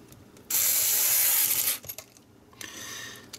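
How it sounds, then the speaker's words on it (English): Screws are driven into a green Halo edition Xbox console during a repair. Two close, loud whirring bursts are heard, the first longer than the second, with quiet clicks between them. "Let's start filling in with the screws."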